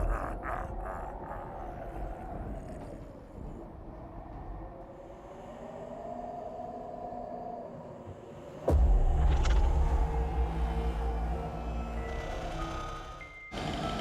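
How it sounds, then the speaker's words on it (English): An electric fan runs right next to the microphone, producing a steady close broadband whoosh with a low hum that continues throughout and grows slightly louder partway through. "I have a fan running next to me."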